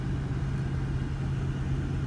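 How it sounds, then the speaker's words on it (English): A 2018 Porsche Panamera Turbo S E-Hybrid engine idling just after firing up in sport mode, a steady, even low-pitched hum with a constant drone and no variation, close and alone. "you can hit sport and the engine will kick in. There we go, it's just fired up."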